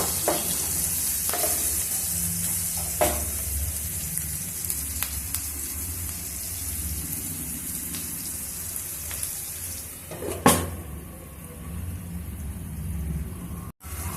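Onion pieces with a little turmeric frying for an alu kurma, a steady close sizzle with occasional scraping stirs and a few utensil taps against the pan, no one speaking.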